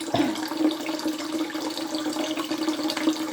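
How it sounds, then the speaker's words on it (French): Warm tap water runs steadily into a bathroom sink while someone rinses their face, a continuous splashing flow with small bursts of splatter and no speech. "Je rince mon visage"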